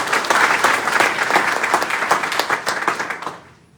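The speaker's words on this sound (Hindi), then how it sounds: "फिर से एक ताली होनी चाहिए।" Audience applause at a motivational seminar on network marketing: loud, brisk clapping from a crowd, steady for a few seconds, then tapering quickly to quiet.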